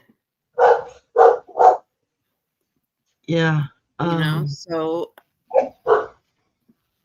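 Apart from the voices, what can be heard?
puppy barking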